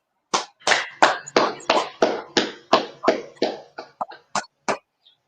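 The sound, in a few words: class clapping hands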